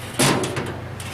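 Pulling the lever and pin on an aluminum high door of a Yamaha Rhino 660 gives one sharp metallic clack as the latch releases, followed by a brief faint rattle.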